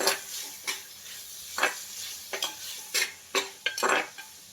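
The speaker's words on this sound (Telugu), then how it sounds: "కాకరకాయ వేసేసుకోవాలి ఒకసారి కలుపుకోవాలి" Bitter gourd tossed into a pan with frying onions and stirred, giving a steady sizzle broken by repeated scraping and clinking strokes of a spoon against the pan, close and fairly quiet.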